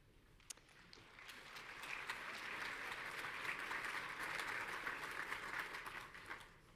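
An audience at a university honors program graduation ceremony claps steadily; the applause is moderately distant and sustained, swelling slightly and holding at an even level throughout.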